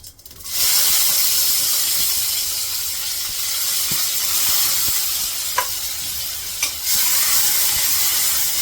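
Onion and cumin seeds fry in hot oil for a Maggi noodle dish, a steady close sizzle with occasional stirring clinks and scrapes, no voices.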